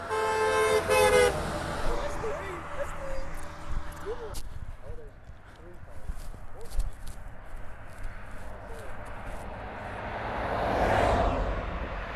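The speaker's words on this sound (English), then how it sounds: "Why wouldn't anyone honk for Jesus? Wait, I hear somebody" A car horn toots at the start amid traffic and road noise, with people talking and a vehicle passing near the end.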